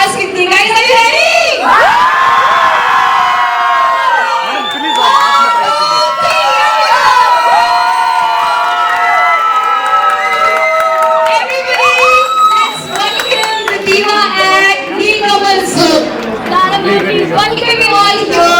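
A large, loud crowd at a Punjab press meet for Lara Dutta cheers, whoops and shouts continuously, with high whistles cutting through a dense roar of excited voices.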